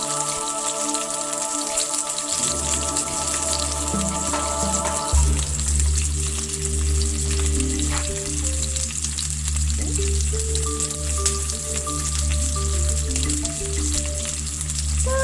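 Steak searing in a pan, a steady crackling sizzle lasting throughout with some faint clinks and background hum, no voices over it.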